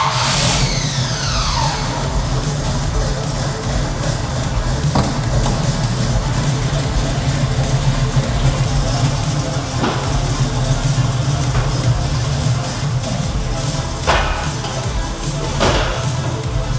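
A 1979 Camaro with a manual transmission swap drives along with steady engine and road noise, the engine rising as it accelerates, with a few thumps along the way.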